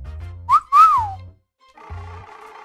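Whistling from the video game Heartbound: two short, clear rising-and-falling whistled notes close together, then a pause before a softer buzzing tone.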